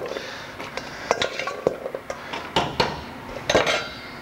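Chopped vegetables and potatoes are dropped into a chowder pot in a home vegetarian kitchen, giving a quick run of close clattering thuds and knocks against the pot.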